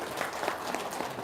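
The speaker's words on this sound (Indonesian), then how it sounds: "Sip, tepuk tangan." A seminar audience gives a short, soft burst of clapping that lasts about a second, with a dense patter of many hands.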